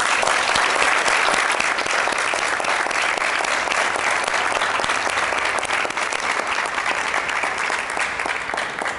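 A studio audience on a French TV talk-show set applauds to welcome a guest named Jean-Paul. The clapping is dense, loud and sustained for the whole stretch, with no talking over it.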